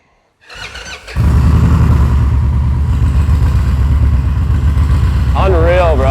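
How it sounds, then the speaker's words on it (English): Custom bagger motorcycle engine cranking briefly, then catching and settling into a loud, steady close-up idle, with a short squealing whine near the end. "you just hit that button, and it'll start right up"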